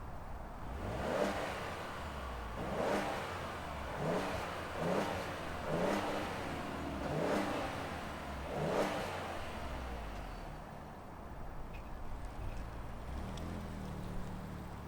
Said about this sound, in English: let's fire this ST up and hear if it makes any sound